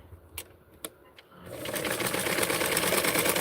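A sewing machine stitches a small doll shirt, starting with a few sharp taps before settling into a loud, steady whirring run that continues to the end.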